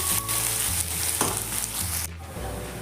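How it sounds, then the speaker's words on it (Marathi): Chopped onion frying in a pan until golden, for a chana palak masala, crackles and hisses steadily and loudly up close, with a few soft stirring scrapes and no voices. "कांदा, कांदा चांगला गोल्डन होईपर्यंत आता भाजून घ्यायचा आहे."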